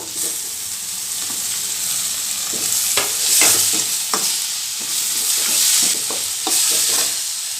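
Tomato and masala for a chilli prawn fry sizzle in a pan, a constant bright frying hiss broken by repeated scraping stirs, close and fairly loud.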